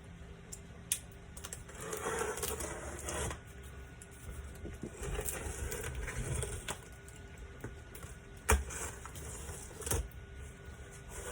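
A blade slices open a shipping box holding hand-carved foam bufflehead duck decoys, giving scattered scraping and rustling with a few sharp cardboard snaps, close and fairly quiet, no talking.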